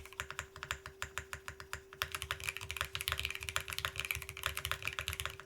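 Steady typing on a newly built ESU67 mechanical keyboard, close and fairly quiet, with rapid even keystrokes that pick up pace and density after the first two seconds, a muted rather than clacky sound with a faint constant hum beneath.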